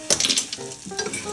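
A thickening flour mixture is stirred in a pan for cheese and toast, giving close, quick scraping and light clinking strokes with a soft sizzle beneath.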